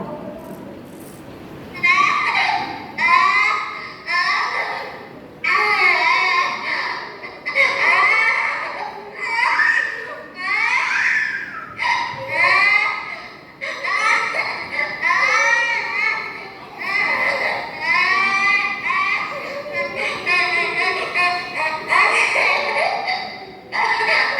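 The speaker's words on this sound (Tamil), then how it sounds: "குழந்தைகளின் அழுகுரலை" Children cry and wail in a Tamil stage skit, with repeated sobbing bursts separated by short pauses. The crying is loud and near, sometimes sounding like several young voices overlapping.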